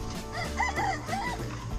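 A rooster's short crowing call, close and clear, with rising and falling tones, over faint background noise.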